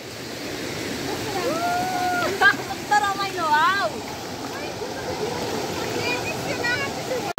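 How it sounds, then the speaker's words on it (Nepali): A mountain stream rushes through forest near Sundarijal, outside Kathmandu, as a steady broad roar, with clear bird chirps and whistles rising over it and people talking nearby. "खोला कराएर"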